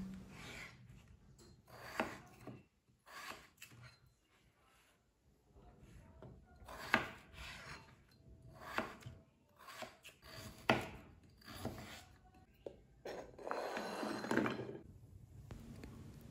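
A knife cuts potatoes into cubes and carrots into rounds on a board, giving irregular, close chopping knocks with scraping and handling noises between them and short pauses.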